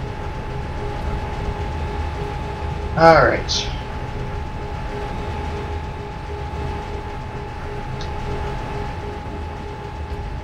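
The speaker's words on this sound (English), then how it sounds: "I'm gonna take another bullet train." A bullet train ride in a Warhammer 40K campaign video game: a steady mechanical rumble with a constant tonal hum, broken by a brief rising whine near the start, while someone says a single word.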